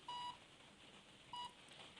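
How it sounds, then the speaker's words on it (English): Two short electronic beeps from a CS4MXI metal detector sound about a second apart, thin and tinny as they leak from headphones in a field, over faint background hiss. "should be able to hear that beeping. That's just coming straight from the headphones"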